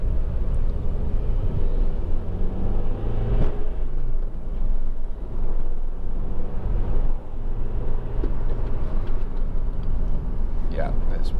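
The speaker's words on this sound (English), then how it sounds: "I'm just going to put my foot down a little bit harder, just to sort of accelerate through the gears, and then hit the brakes reasonably hard as well." A 2007 Honda Civic 2.2 i-CTDi diesel hatchback gives off a steady, loud interior rumble as it pulls through the gears and brakes, heard from inside the cabin while someone talks.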